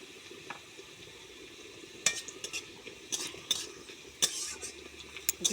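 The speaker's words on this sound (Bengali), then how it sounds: "পেঁয়াজটা এখন কষা হচ্ছে" Onion sautéing in a pan for a snail curry cooked over a leaf-fired clay stove, a steady soft sizzle under sharp intermittent scrapes and clinks of a stirring utensil against the pan.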